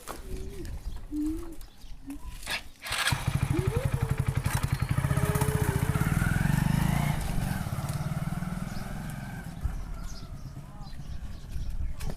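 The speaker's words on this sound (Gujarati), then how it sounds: "એ બાપા મોટરસાયકલ લઈ આવ્યો." A motorcycle engine starts and runs close by, a loud steady putter with rising revs that settles after several seconds, following brief voices and clatter at the start.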